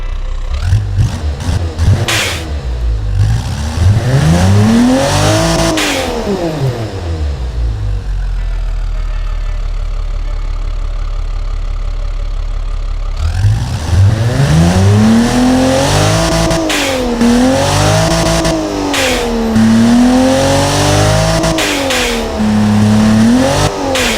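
A turbocharged lightweight sports car engine with a carbon fiber intake manifold, running on 80 octane fuel in a racing video game, revs hard and loud in repeated rising sweeps, settles into a steady idle mid-clip, then climbs through several more aggressive revs.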